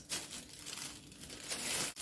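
Heat-resistant plastic bag crinkling and rustling close up as a blended eggplant mixture is poured in, a continuous papery crackle without talk.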